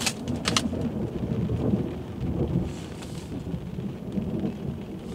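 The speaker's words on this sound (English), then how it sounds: "Okay, it's about to storm." A thunderstorm brings steady rain pattering on surfaces, with rumbling thunder rolling underneath. A couple of sharp drip or crack sounds come early, and no voices are heard.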